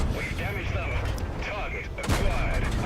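In World of Tanks, an AC 1 Sentinel British medium tank fires, with booming cannon shots and battle noise under continuous talk, and a sharp blast near the end.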